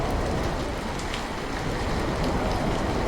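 Heavy village rain pours down in a loud, continuous, dense hiss of drops striking surfaces nearby, unbroken for the whole three seconds with no voices.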